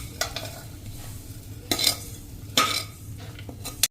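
Vagharelo rotlo, a Kathiyawadi tempered millet flatbread dish, being stirred and mixed in a pan: a low steady sizzle underneath with a few scraping spoon strokes and clinks, spaced irregularly.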